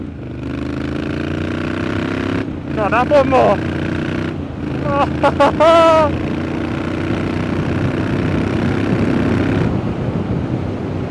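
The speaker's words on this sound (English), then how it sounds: "I like listening to the noise the bike makes" A motorcycle engine rumbles steadily and close by, with a few brief rises in pitch, while someone talks over it.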